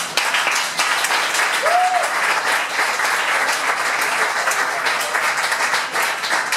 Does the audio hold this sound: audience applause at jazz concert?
yes